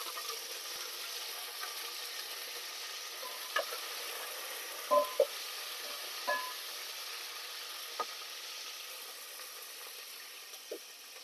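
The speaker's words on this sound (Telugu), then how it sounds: "కరివేపాకు వేసేస్తున్నాను" Curry leaves dropped into hot oil for tempering a tamarind lentil broth sizzle with a soft, steady hiss, broken by a few quick crackles and pops.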